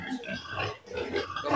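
A boar grunting close by, a run of low, rough snorts and oinks with no talking.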